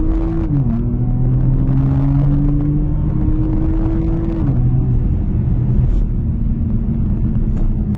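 A Porsche Macan Turbo cruising on a road, its engine a steady low drone from inside the cabin that shifts pitch as gears change, with constant road rumble throughout.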